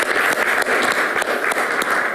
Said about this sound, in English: Just give the round of applause for the lessons.